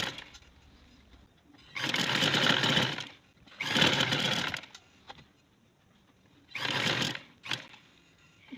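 Elastic is stitched onto a trouser on a sewing machine in three longer whirring runs separated by quiet pauses, close up, with small handling clicks between.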